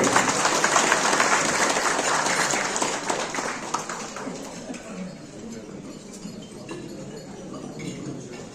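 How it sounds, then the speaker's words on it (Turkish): Audience applause at a CHP mayoral candidate's breakfast gathering with a Van hometown association, a dense burst of many hands clapping that starts loud and gradually thins and fades as it goes on. "Alkışlarınızla."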